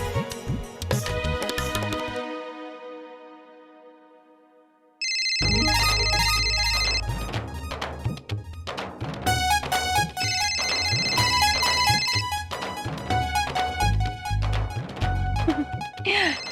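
A phone ringtone plays loudly, a short electronic tune, then a pause, followed by a bright repeating ring over heavy beats.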